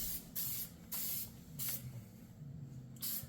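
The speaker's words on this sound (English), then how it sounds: "I don't want to spray it too heavy so it's running, but I'm going to give it a nice glossy sheen look" Aerosol spray can bursts coat the arm pad of a first-generation Chevy S10 door panel, with five short, even hissing sprays in a steady rhythm, close but fairly soft.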